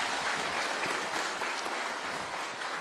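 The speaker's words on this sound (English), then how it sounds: "Kindly let's give our chief guest a better clap" Audience clapping for the chief guest at a health economic forum, a sustained dense round of applause from a sizeable crowd, steady and even throughout with no voices on top.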